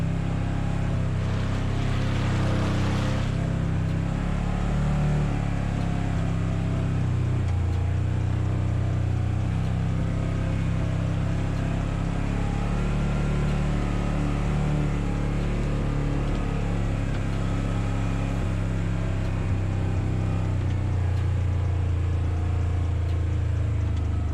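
A 2022 Polaris General side-by-side engine, still being broken in, rumbles low and steady while crossing water, splashing, rushing water over it, close and loud throughout, no voices.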